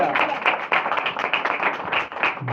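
Congregation clapping for Jesus at a church service, a dense run of rhythmic hand claps that carries on steadily and fairly loud, with voices mixed in.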